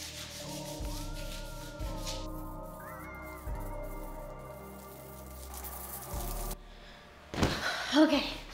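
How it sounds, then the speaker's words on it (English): Rough rubbing and scraping of an electric sander on wooden stairs in intermittent passes, with faint music playing in the background. "I do have an electric sander"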